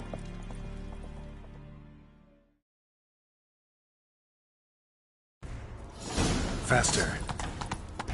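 Rhythmic clip-clop of hooves fades out into silence, then louder, busier galloping returns with a voice speaking briefly over it, in the video game The Witcher 3: Wild Hunt.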